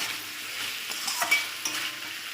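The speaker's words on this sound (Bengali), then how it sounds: "ভাজা সবজিগুলো দিয়ে একটুখানি কষিয়ে নেব আবার।" Fried vegetables stir-fried with spices in oil in a pan, giving a steady close sizzle with soft scraping stirs and a few light clinks.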